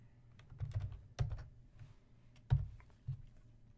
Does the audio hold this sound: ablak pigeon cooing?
no